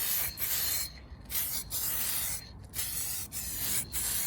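Aerosol rattle-can paint hisses onto a Citroen C1 car sill in a thin coat, in several close bursts broken by short pauses, with no talking.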